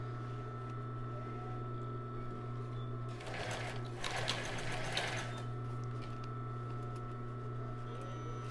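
Sewing machine stitching a foam bra cup into a strapless topper, a steady mechanical hum running throughout with a louder burst of stitching in the middle, close by and without talk.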